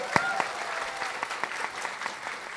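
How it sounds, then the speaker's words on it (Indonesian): A small audience at an Indonesian talk event claps in an uneven, scattered burst, individual sharp claps standing out near the start before the applause settles into moderate, steady clapping. "Mana tepuk tangan yang lebih meriah lagi?"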